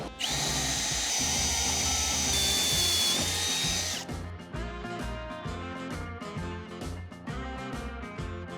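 A power drill bores into a 1975 Chevrolet C10 pickup during a grille swap: a loud, steady high whine for about four seconds, then quieter rattling and clatter.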